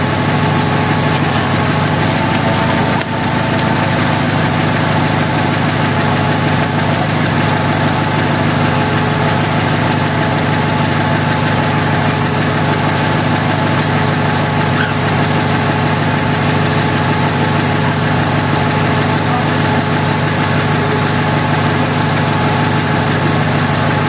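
A Honda Civic engine idling just after starting, a loud, steady mechanical hum with a constant tone and faint vibration that continues unbroken and with no talking.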